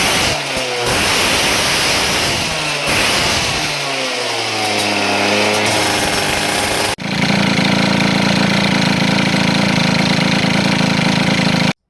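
A scooter engine fitted with a Malossi Variotop variator runs loud and steady, first with rising and falling revs, then settling into a constant high, buzzing drone until it cuts off abruptly at the end.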